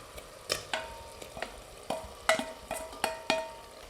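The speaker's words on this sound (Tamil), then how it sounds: "இறாலை சேர்த்து ஒரு ரெண்டு மூணு நிமிஷம் நல்லா கலந்து விட்டுக்கிட்டால் போதும்" Prawns stirred and sautéed in a pan for prawn biryani, giving about ten sharp spoon-scrape and stirring clatters in an irregular rhythm over a faint sizzle, close by with no talk.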